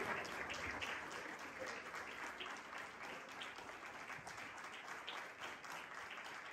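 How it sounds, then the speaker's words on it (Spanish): Church congregation applauding in worship, a steady dense wash of clapping holding at an even level throughout, with no pauses and no speech over it. "Denle un fuerte aplauso a Dios"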